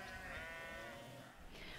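Several white sheep bleat together in a flock, a layered, wavering chorus of calls heard fairly faintly but continuously.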